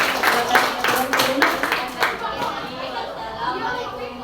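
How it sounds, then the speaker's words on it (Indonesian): Classmates in a classroom clap in a short burst of applause that fades after about two seconds, with children chattering and talking over and after the clapping. "Beri aplaus dulu untuk teman-teman"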